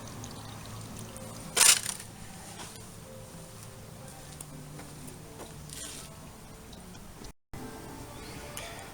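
Coolant poured into the radiator of a Honda Forza 300 scooter, a brief splashing burst near the start followed by a low steady trickle, close and moderately loud with no talking.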